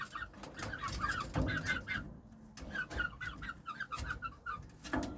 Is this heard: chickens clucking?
yes